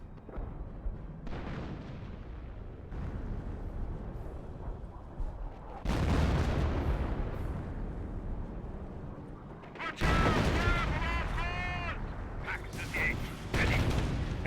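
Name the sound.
artillery fire in Company of Heroes video game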